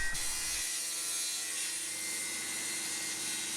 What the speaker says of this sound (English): another great camera angle of me cutting some wood to make a shelf for the blackboard to sit on